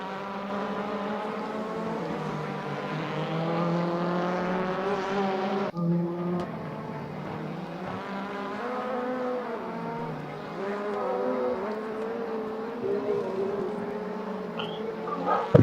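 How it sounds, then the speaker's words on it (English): Turbocharged Honda Civic race cars with 1.6-litre engines scream around a track, their steady, loud engine notes climbing high through the revs with gear-shift dips and the overlapping whine of several passing cars. "they have got quite a nice sound in these cars too. They really get right up in the rev range."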